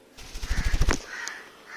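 A green-cheeked conure, standing on a DIY bird perch stand, gives a close, harsh burst of rapid, rattling squawks lasting about a second, then goes quiet.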